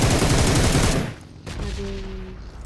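Video game gunfire rattles in a dense, loud automatic burst for about a second, then a short break, then further rapid shots with a faint tone behind them.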